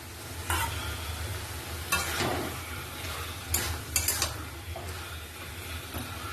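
Spinach frying in fish oil sizzles steadily in a pan while a utensil stirs it, scraping and clattering against the metal in a few distinct bursts over the constant hiss.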